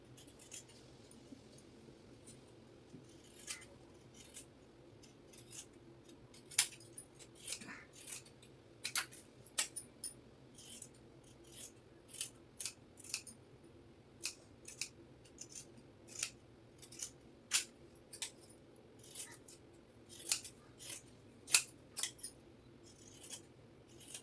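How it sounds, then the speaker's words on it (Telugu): Scissors snip through blouse fabric while the front panel of a high-neck blouse is cut out, giving a steady run of crisp, close snips at an irregular rhythm over a quiet room hum. "ఇప్పుడు ఫ్రంట్ పార్ట్ కట్ చేసేద్దాం"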